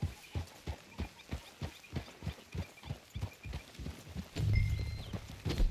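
Horse hooves clip-clop steadily at a walking pace in the Red Dead Redemption 2 video game, a regular rhythmic beat that continues throughout, with a low rumble and faint tonal game sounds toward the end.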